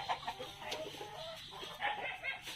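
Black Australorp chickens clucking in a netted coop, several soft overlapping clucks and calls close by in a steady farmyard murmur, with no talk.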